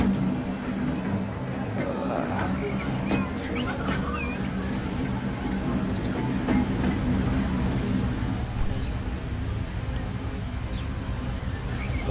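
A fast tram rolling along rails in a video game, a continuous rumbling clatter with light rattling and squeaks, while people talk over it.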